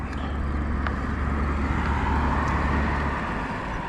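Cars pass on a road during a roughly 25-mile morning bike ride. Steady, loud low road rumble fills the whole stretch, with no talking.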